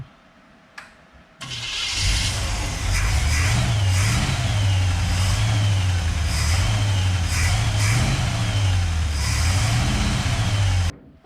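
A 1966 Chevrolet C10 small-block V8, running after tuning, fires up after a brief crank and settles into a loud, steady run, with the revs rising and falling in repeated blips before cutting off abruptly near the end.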